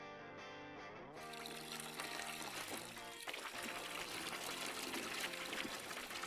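Liquid pours steadily into a fermenter in the Brewmaster homebrewing video game, a continuous trickling stream heard over tonal background music.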